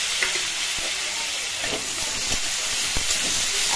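Onion, ginger and garlic fry in a pan with a loud, continuous sizzle and hiss, broken by a few sharp clicks of stirring up close.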